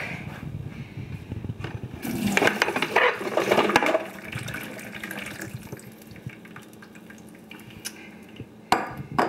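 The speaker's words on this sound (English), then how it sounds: "So I'm gonna dump it in a colander over a bowl and you wanna drain it for about 15 minutes." Foie gras liver dumped into a colander over a bowl, giving a burst of splashing and pouring liquid that settles into quieter trickling and dripping, with a clatter at the end.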